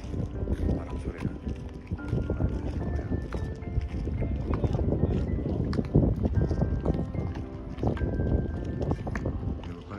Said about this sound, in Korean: 바람 소리가